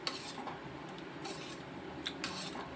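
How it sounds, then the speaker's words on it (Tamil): Egg curry masala being stirred in a pan, with soft scraping and rubbing strokes of a spoon against the metal, a few sharper clinks standing out over a quiet background. "இதெல்லாம் போட்டு நம்ம வந்து நல்லா கிண்டி விட்டுக்கிறோம்"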